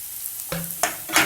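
Carrots and capsicum being sautéed for paneer fried rice give off a brief sizzle, broken by two quick scraping stirs of the spatula against the pan.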